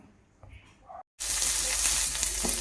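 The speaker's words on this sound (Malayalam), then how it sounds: "ചീനിച്ചട്ടിയിൽ എണ്ണ ഒഴിച്ചു അതിനുശേഷം കറിവേപ്പില കൊച്ചുള്ളി വെളുപ്പുള്ളി പച്ചമുളക്" Curry leaves, shallots, garlic and green chillies hitting hot oil in a pan for spinach thoran, a brief quiet moment and then a sudden loud, steady sizzle close by.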